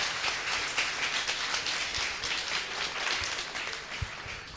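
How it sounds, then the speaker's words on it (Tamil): An audience at an annual day and awards ceremony claims a broad, even burst of applause, many hands clapping together at moderate distance, holding steady for several seconds. "அதனால நாம எல்லாருமே அவங்களுக்கு பலத்த கரகோஷத்துடன் ஒரு வாழ்த்து சொல்லலாம்"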